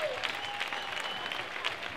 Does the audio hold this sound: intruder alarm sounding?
no